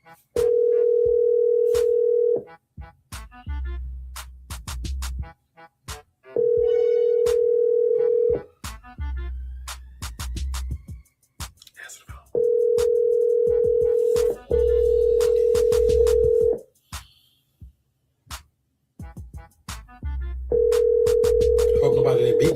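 A telephone line rings with a repeating tone in long bursts separated by pauses, heard close over a phone connection, with brief faint noise between rings.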